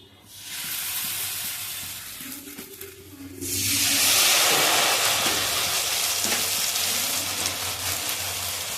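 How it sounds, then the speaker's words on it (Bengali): Snacks deep-frying in hot oil give a steady sizzle that swells into a louder, bubbling hiss partway through and keeps crackling close up, with no talking. "এক এক করে এইভাবে ভালোভাবে ভেজে নেবো সবগুলো।"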